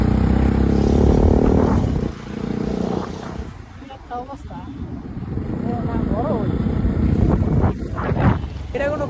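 A train engine and its carriages rumble past near a congested road, a loud heavy low roar that dips and swells again, with people talking over it.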